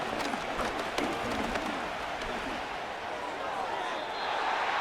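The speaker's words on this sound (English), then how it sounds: "This crowd doing all they can." Stadium crowd in a Madden 25 simulation of Falcons vs Vikings football, a continuous dense roar with scattered cheering and applause, heard under a commentator's talk.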